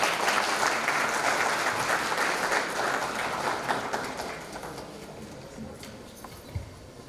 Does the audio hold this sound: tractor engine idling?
no